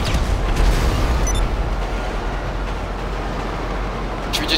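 A train rumbles past in GTA 5 Online, a loud sustained low roar with a heavy rolling bass that holds steady throughout, with a brief high screech near the end.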